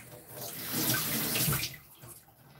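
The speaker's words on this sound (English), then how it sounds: "So I'm going to be washing the ginger." Ginger washed under a running kitchen tap: a steady stream of water splashes for about a second, rises and falls, then settles to a quieter trickle, close and alone.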